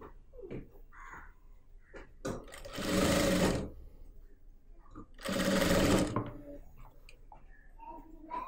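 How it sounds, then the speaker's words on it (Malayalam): Sewing machine stitching churidar fabric in two loud, steady bursts of a couple of seconds each, with quieter handling clicks and rustles of cloth in between. "എന്നിട്ടൊരു കാലിഞ്ചിൽ നമുക്ക് സ്റ്റിച്ച് ചെയ്ത് കൊടുക്കാം."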